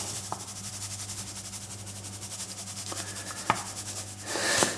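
Hands rub salt and pepper into a raw lamb joint, giving a soft continuous scraping rustle with a few faint clicks and a brief louder handling sound near the end.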